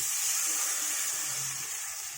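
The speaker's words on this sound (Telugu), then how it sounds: "నేను ఒక గ్లాస్ నీళ్ళు పోస్తున్నాను" A glass of water poured into a pan of small sambar onions cooking on low heat gives a brief, close, steady hissing gush that fades slightly toward the end.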